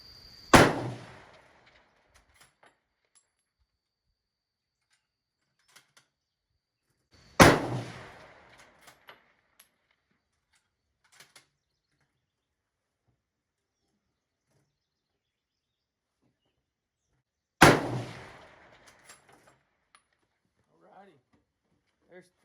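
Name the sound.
rifle shots fired at a 600-yard target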